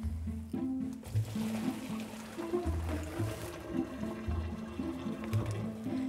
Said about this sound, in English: We're just going to take them over to the sink and drain them.